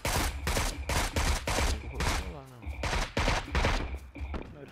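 Rapid bursts of game gunfire, loud and close, sharp cracks fired in quick volleys with short pauses between them, and no talk in the gaps.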